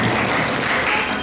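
A round of applause from a tour group on a Sleepy Hollow and Salem trip, steady and dense clapping that fills the whole short moment at close range with no talk over it.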